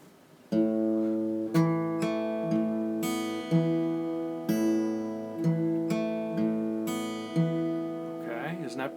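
Fingerstyle acoustic guitar plays two short beginner measures at a quicker tempo: plucked notes ring out in a steady pattern with regular attacks and sustained tones, close and clear with no talking.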